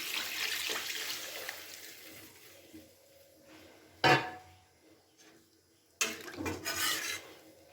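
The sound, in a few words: water being poured into the curry pan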